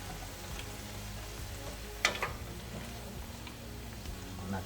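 Green beans and potatoes fry in a pan with a soft, steady sizzle, low and close, with one sharper clatter of stirring midway and no talking.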